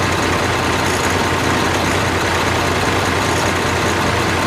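Antique tractors roll past in a parade at the Red Power Round Up in Lima, Ohio, giving off a steady, dense engine rumble and drone that holds evenly throughout, with no break.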